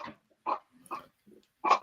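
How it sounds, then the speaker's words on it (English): A dog makes several short separate vocal sounds, somewhere between barks and whimpering grunts, with quiet gaps between them and no talking. "before the dog starts kicking off"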